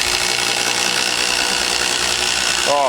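Cordless Milwaukee M12 Surge driver drilling holes, a steady, smooth, continuous whirring drone that runs loud and close throughout, with a brief pitch change at the very end.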